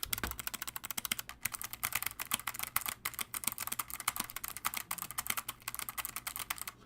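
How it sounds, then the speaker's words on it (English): Rapid, steady typing on a Logitech G915 TKL mechanical keyboard with clicky switches, each keystroke a sharp, bright click in a dense, continuous patter, close and alone with no voices. "And you can hear that one's going to be much louder and much clickier than the other two sounds out there."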